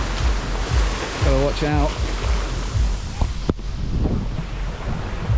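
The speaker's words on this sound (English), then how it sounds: "you can see the waves are pounding in now" Ocean waves pound in on a polluted beach in Bali, a steady broadband wash of surf with wind noise on the microphone throughout, while someone speaks briefly over it.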